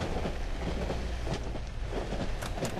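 A moving train in the horror game Cry of Fear rumbles loudly and steadily, a dense low roar with faint clattering of wheels over the rails, close and unbroken.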